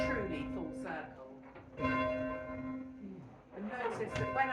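A church bell at St Johns-at-Hackney rung full circle, giving a steady sustained ringing tone with a fresh strike near the end, heard under ongoing talk by a nearby voice.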